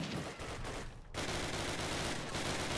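Scattered rifle and machine-gun fire crackles in Call of Duty: United Offensive, a dense steady battle din with a brief drop in the middle before the shooting resumes at moderate level.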